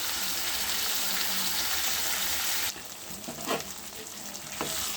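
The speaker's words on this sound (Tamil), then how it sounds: "தக்காளி வெங்காயம் நல்லா நல்லா இந்த மாதிரி நல்லா வணக்கி பச்சை வாடையே இல்லாமல் நல்லா இது மாதிரி வணக்கிக்கணும்" Tomato and onion sautéing in oil for an eggplant curry base, a steady dense sizzle throughout that drops slightly quieter partway, with a few close scraping stirs near the end.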